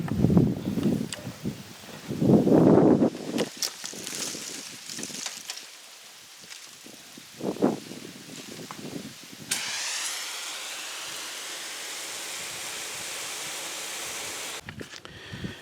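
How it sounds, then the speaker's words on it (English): Water is poured onto a compost pile that has been restacked twice and well broken down, a steady hissing spray running for several seconds after some brief rustling and handling noises. "I'm gonna add a little water in here."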